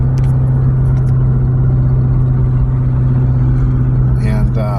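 A Ford Mustang with a freshly rebuilt engine drives along, its loud steady low engine hum heard from inside the car with road noise, holding an even pitch throughout.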